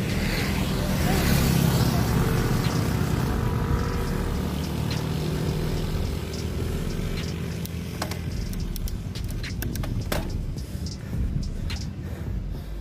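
Motorcycle engine droning past on a trail at an adventure park in Bukidnon, a steady mid-distance rumble that swells early then fades, with wind buffeting and scattered clicks.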